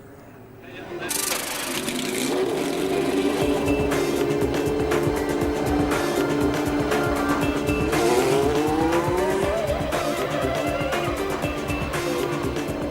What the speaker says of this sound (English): They staged the first Formula One two-seater race at Donington.